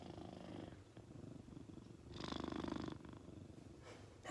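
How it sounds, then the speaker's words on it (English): A cat purrs softly and steadily while carried close against the body in a baby sling, a low continuous rumble heard near and alone, with a brief rustle at the end. "can you hear him purring?"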